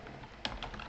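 Typing on a computer keyboard while entering a font name in CSS code: a few quiet, close key clicks, one sharper tap near the middle, with no voice.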